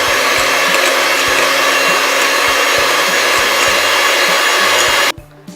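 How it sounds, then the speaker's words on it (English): An electric mixer whirs at high speed whipping cream toward soft peaks for a strawberry Oreo cheesecake, a loud continuous broadband roar with a faint rhythmic knock from the beaters against the bowl, cutting off abruptly near the end. "I am going to beat this in a high speed until we get soft peaks of this whipping cream"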